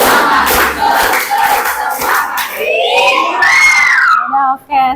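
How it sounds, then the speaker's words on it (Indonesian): A group of children shouts a rhythmic Indonesian 'tepuk semangat' clapping chant, voices rising into a loud, excited cheer that ends abruptly. "sekali lagi tepuk semangat"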